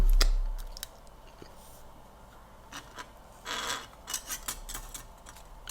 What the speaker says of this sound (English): basically just pushing this rubber band through the plastic straw